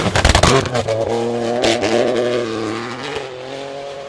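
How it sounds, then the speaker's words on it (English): A Peugeot 208 Rally4 car blasts past on a rally stage, loud engine howl with sharp gear-change pops at first, then a steady revving tone fading slightly as it moves away. "Sam Mason, this is the Peugeot 208, which is the same car basically as the Corsa we've just seen"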